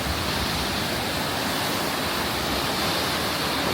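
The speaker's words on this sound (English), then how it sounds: "Made it back to the river." A river in the Peruvian Andes rushes past a bridge, giving a steady, dense roar of flowing water that stays even throughout, with no voices.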